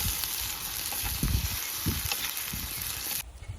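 Tomato paste sautéing in a pan for Tamil garlic kulambu: a steady broadband sizzle with soft stirring scrapes and low thumps, fairly close, cutting to near quiet at the very end.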